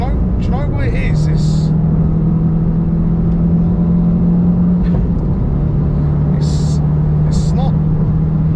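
Modified stage 3 Vauxhall Corsa E VXR, a 250 horsepower hatchback, idling and revving loudly up close with a steady engine drone, brief crackles near the start and toward the end, and voices talking over it.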